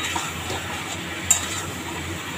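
Chicken being stirred in a cooking pot for a soup, with a soft, steady scraping and faint clinks of a utensil against the pot and one sharper clink partway through.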